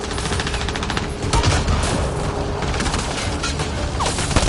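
Sustained gunfire in a chaotic battle, dense overlapping bursts and booms rattling continuously at close range with no talking.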